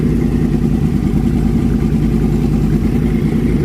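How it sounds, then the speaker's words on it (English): A 2014 Yamaha R1 motorcycle fitted with a Toce exhaust runs steadily and loudly nearby, a dense continuous engine roar with little variation and no clear rev spikes. "we're gonna go ahead and do a little rev battle"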